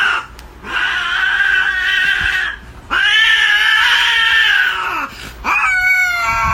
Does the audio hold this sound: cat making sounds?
yes